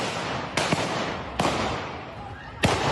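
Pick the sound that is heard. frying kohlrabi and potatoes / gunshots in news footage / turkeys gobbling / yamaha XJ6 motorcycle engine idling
gunshots in news footage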